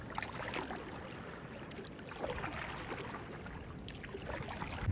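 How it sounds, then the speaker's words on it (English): Faint, continuous water sound from ocean waves at a beach in Sanur, Bali, soft and distant with gentle swells and lapping, no voices. "the kind of place where you can actually hear the waves"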